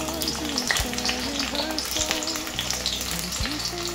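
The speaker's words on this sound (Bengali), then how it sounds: "তেলটা গরম হয়ে গেলে তার মধ্যে পেঁয়াজ কুচি দিচ্ছি।" Finely chopped onions frying in hot white oil, a continuous close sizzle with a wavering tonal sound running underneath throughout.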